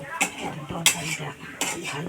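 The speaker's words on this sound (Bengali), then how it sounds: "তরকারিটা ভাজা করে নিই।" Vegetable curry being stirred and fried with ginger and turmeric in a pan, giving three sharp metal scrapes and clinks of a spoon against the pan at roughly even intervals, close and fairly loud, with a faint sizzle between them.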